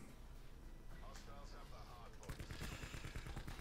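Gunfire in a first-person shooter video game: a rapid burst of shots from about two seconds onward, loud and dense over a noisy game background, with a sniper rifle among the weapons.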